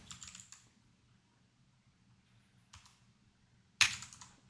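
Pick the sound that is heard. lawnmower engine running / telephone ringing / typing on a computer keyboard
typing on a computer keyboard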